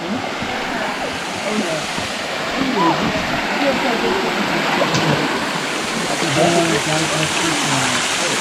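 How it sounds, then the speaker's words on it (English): A waterfall in the Laos jungle pours in a steady broadband rush, close and continuous, with faint voices and movement sounds beneath it. "Second waterfall."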